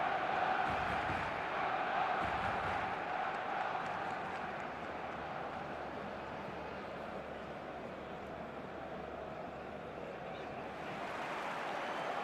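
A steady, distant stadium crowd roar fills a match day in the eFootball video game, a broad continuous murmur with faint swells throughout.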